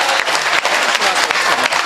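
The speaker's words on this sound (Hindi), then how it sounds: "और सुनेंगे तो एक बार पुरजोर तालियां बजाएं" Loud, dense applause from a mushaira crowd greeting comic poet Sajjad Jhanjhat, a continuous roar of many hands clapping close by with no voices over it.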